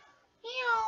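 A pet cat lets out a single drawn-out meow, close and fairly loud, rising in the second half of the clip after a faint start.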